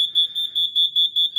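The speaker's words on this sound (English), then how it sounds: "trigger the carrier control point as it would have been triggered from the WB 1400 on the UK early warning system" Carrier control point alarm on the UK early warning system, triggered as if from a WB 1400: a loud, steady high electronic tone pulsing on and off about eight times in quick, even rhythm, with no voices.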